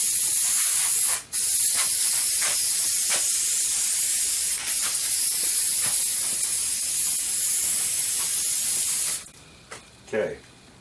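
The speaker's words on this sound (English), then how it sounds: "So the first thing we'll do is just make sure you give this a good spray" Spray adhesive hisses from an aerosol can in long, loud continuous bursts with a couple of brief pauses, coating foam for a carvable pumpkin prop, then stops near the end.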